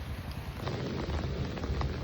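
Steady rain patters and hisses throughout near a temple, with a low rumbling undertone and occasional louder drops, no voices.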